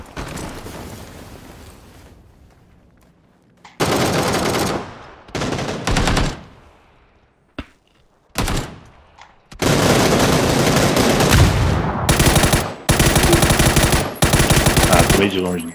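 Loud gunfire in the video game PUBG, including an M24 rifle: sharp single shots and long rapid bursts come in repeated close-range volleys separated by short pauses.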